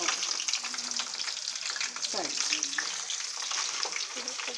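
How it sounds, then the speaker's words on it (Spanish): Breaded chicken nuggets sizzling in hot oil in a pan, a constant bright crackling fizz with small pops and a brief stirring scrape partway through, close and alone without talk. "las ponemos directamente al aceite calentito"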